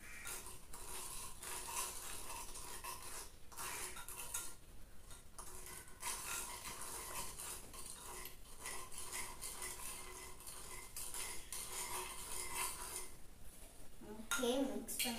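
Gulab jamun mixture stirred in a bowl with a utensil: steady scraping and clinking of a spoon against the bowl runs through the whole stretch, with faint voices now and then.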